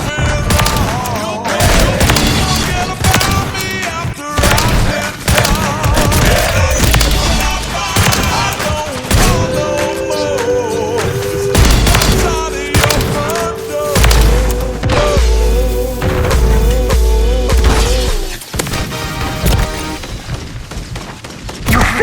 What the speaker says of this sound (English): Call of Duty! Run around, shooting dudes, yeah!